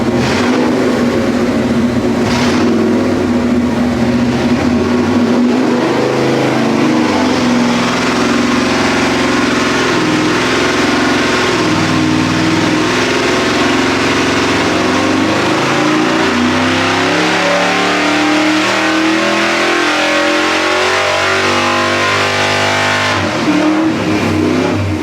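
Pontiac V8 engine on a dyno, with intake testing under way, revving hard and loud for a long continuous stretch, pulling up through the rev range in a steady roar before dropping off near the end.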